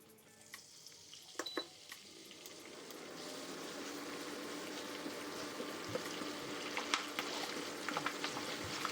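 Washed curry leaves hit hot oil for homemade chanachur, a burst of crackling, then a steady close sizzle that carries on with a few small pops and clinks and no talk.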